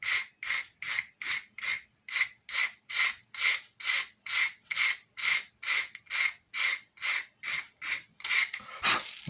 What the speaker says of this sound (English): Just using an 80 grit ordinary sandpaper here.